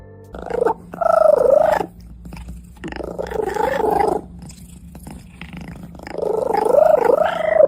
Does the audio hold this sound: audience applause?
no